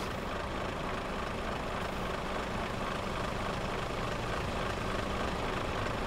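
A truck engine in the Euro Truck Simulator 2 video game runs in a steady, continuous low rumble, as if idling, with no voices over it.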